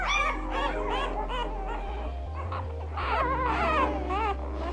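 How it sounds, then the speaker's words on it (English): Ten-day-old American Bully puppies whimper and yip in high, wavering cries, several pups overlapping close by over a low steady hum, with brief breaks in the fussing. "These pups are 10 days old."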